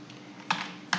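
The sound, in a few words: typing a sentence on a computer keyboard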